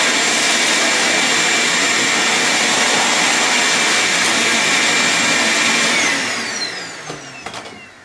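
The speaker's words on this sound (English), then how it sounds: "we're actually going to just vacuum these right out of here" A vacuum cleaner sucks leftover coffee beans out of the hopper of a Gaggia MDF coffee grinder, giving a loud, steady, close whine that runs for about six seconds and then winds down.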